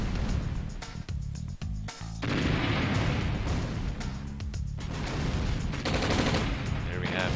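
A Hind attack helicopter in the OpenRA strategy game fires on a medium tank, producing dense rattling gunfire and explosive pops mixed with game effects over a loud, continuous battle din.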